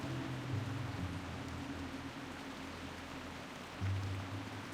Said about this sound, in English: It's raining in Duskwood.